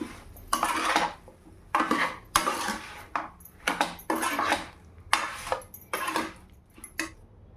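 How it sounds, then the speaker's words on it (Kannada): Cut bananas are stirred in a pan, a utensil scraping and knocking against the metal in about nine short bursts separated by brief pauses, close and fairly quiet, with no speech. "ಬಾಳೆಹಣ್ಣು ಹಾಕ್ಕೊಂಡು ಈ ಥರ ಮಿಕ್ಸ್ ಮಾಡ್ಕೋಬೇಕು"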